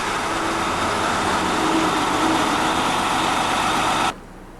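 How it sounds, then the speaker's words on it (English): A noisy bus passes near a river, a steady loud roadway rumble with broadband engine noise that holds for about four seconds and then cuts off abruptly, no voices over it. "the noisy bus"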